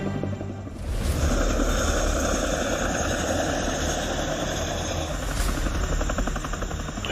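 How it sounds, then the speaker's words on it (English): A CH-47 Chinook military helicopter flying through the Alaska Range, its heavy rotor thrum and turbine whine loud and steady throughout, with no voices. "the Army's 152 Battalion is flying through the Alaska Range on a testing mission with the CH-47 Chinook helicopter"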